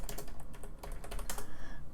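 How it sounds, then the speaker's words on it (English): Fast typing on a computer keyboard clatters in a rapid, uneven run of crisp key clicks, close and steady with no voices over it. "I was just typing something out real fast"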